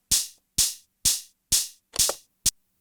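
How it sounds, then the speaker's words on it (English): A second slap house hi-hat sample repeats in a steady rhythm, five bright, open-sounding hits about half a second apart, each with a low thump and fading sizzle, ending on a short clipped tick; no talking. "Second hi-hat"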